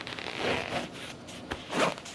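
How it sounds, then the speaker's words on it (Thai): Zipper being drawn open around a soft-shell Apple Vision Pro travel case with a hard inner shell, heard as two close, scratchy zipping strokes with a short pause between, no talking. "แค่ ซิปออกมาได้เลยนะครับ"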